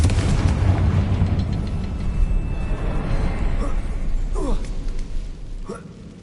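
Confringo, an explosive spell from the Hogwarts Legacy game on PS5, erupts in a loud, dense roar of booming blasts and crackling bursts that rumble on without a break, with a few sharper pops near the end.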